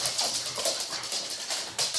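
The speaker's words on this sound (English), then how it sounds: "here come the puppies" Puppies bark and whimper in a busy, overlapping jumble of yips and whines, fairly close and steady over a couple of seconds.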